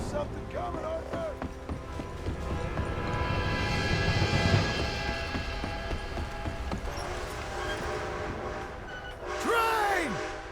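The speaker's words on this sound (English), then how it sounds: "Train!" An approaching train in the Red Dead Redemption video game, a steady loud rumble and clatter that swells and rolls on throughout, with a rising shriek near the end, under brief shouted voices.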